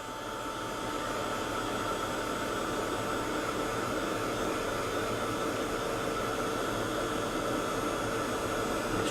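A hair dryer blows on soaked paint over chipboard, a loud, steady whooshing roar with a constant hum that runs unbroken from start to finish, close by and without talk.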